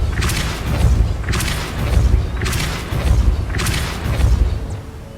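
Depulso spell from the video game Hogwarts Legacy, cast four times in a steady rhythm, each a loud booming thud with a bright whooshing burst, close and without talk.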